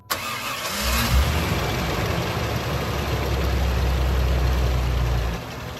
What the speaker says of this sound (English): So we're gonna fire it up and let it idle.